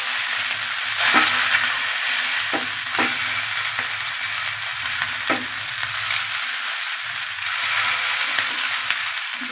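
Fish frying and roasting in a hot pan, a steady loud sizzle running throughout with occasional sharp crackles and soft scraping stirs, no voices.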